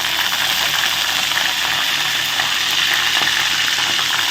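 Mustard seeds, lentils and curry leaves crackle loudly in hot oil for a beetroot curry, a dense, continuous spitting hiss heard up close with no voices.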